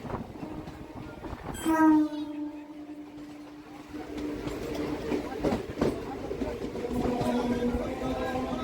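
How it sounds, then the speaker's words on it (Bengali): A Gede–Sealdah local train arrives at Bagula station, its horn sounding one long loud blast early on, followed by steady rolling and rumbling of the carriages close by. "এটা আটটা পঁয়তাল্লিশের গেদে শিয়ালদহ লোকাল"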